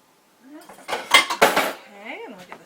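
A spoon clinks and scrapes against a salad bowl while a salad is tossed, in a brief burst of bright, close metallic and ceramic knocks, with a voice speaking around them.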